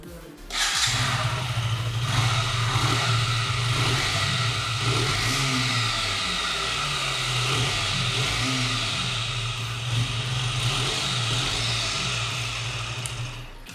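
A 2021 KTM Duke 125 single-cylinder motorcycle with an underbelly exhaust starts up nearby and settles into a steady idle, a low droning hum held for several seconds with a few small blips in pitch.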